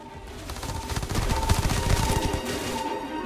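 Rapid gunfire from a weapon in modded Starfield, a dense burst of overlapping shots sustained for about three seconds at steady loudness with no talking.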